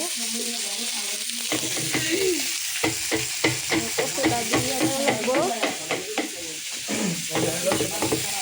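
Rohu fish sizzles in hot oil while a spatula scrapes and stirs in quick, repeated strokes; a voice speaks briefly.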